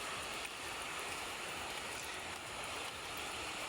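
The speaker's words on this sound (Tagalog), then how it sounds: "Napakaganda yung ilog." A clear river flows with a constant, even rush of water, a dense hiss that holds steady without pause and no voices.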